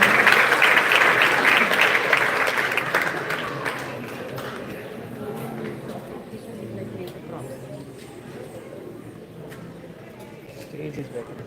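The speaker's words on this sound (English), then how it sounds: "let's give them a huge round of applause" An audience applauds after a dance performance of Krishna with Radharani and the Gopis at a live stage event. The clapping is loud at first, then slowly fades to scattered claps while people talk.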